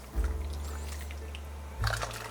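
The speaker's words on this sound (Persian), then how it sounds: "برنجمو بهش اضافه میکنم." Presoaked, heavily salted rice goes into a pot of boiling water for Persian broad bean and dill rice, making two short splashy pours over a steady low bubbling, heard close and with no talking.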